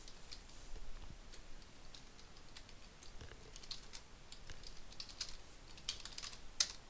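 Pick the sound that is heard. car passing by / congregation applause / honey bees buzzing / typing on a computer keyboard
typing on a computer keyboard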